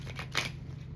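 A deck of tarot cards is shuffled in a short, close riffling burst of soft papery flutters that fades after about half a second, leaving only faint room hum.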